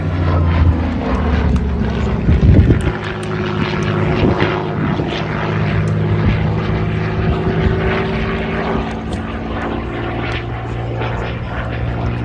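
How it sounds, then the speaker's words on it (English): A propeller plane's engine drones loud and steady nearby, a deep throbbing hum that fills the whole stretch, with faint talk beneath it. "One of the unique features of this airplane is that the Allison engine is mounted behind the pilot."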